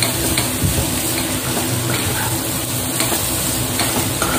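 Sliced onions sizzle steadily in an oiled pan for chicken biryani while a spoon stirs and scrapes through them. The frying hiss is loud and continuous, with soft, irregular stirring clicks.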